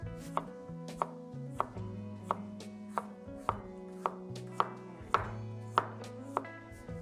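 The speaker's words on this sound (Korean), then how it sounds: "먼저 마늘을 편으로 썰어줍니다." A knife slices garlic cloves on a cutting board, about sixteen crisp, evenly paced chops close to the microphone with no talking.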